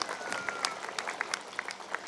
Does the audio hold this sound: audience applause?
yes